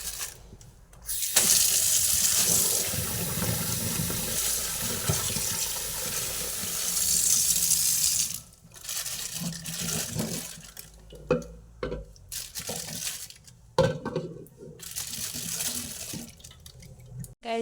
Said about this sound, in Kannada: ನೆಕ್ಕೆ ನೀರು ಬಿಡ್ತೀನಿ ನಾನು ಪ್ಲಾಸ್ಟಿಕ್ಗೆ